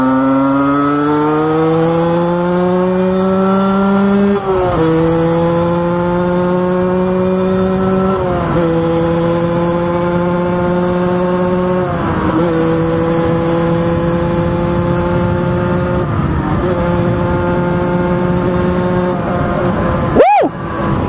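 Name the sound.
Derbi GPR 50cc moped engine with Conti exhaust revving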